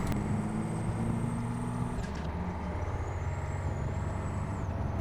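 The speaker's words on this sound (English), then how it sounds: "you can hear the engine very loudly" A heavy truck engine in American Truck Simulator drones steadily with a high whine on top, joined by a brief hiss partway through, on a highway in Utah.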